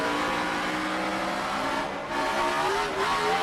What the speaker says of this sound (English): Here hitting the rev limiter.